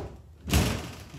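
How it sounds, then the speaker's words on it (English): A door being pushed that won't close gives one dull thud partway through, a short muffled impact followed by a brief rattle, close and alone. "the door won't close"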